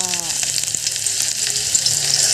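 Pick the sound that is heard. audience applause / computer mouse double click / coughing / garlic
garlic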